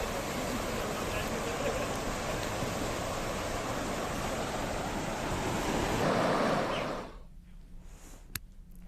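A swollen, flooding river in Saharanpur rushes in a loud, continuous broadband roar with wind buffeting the microphone, then cuts off abruptly to near quiet for the last two seconds.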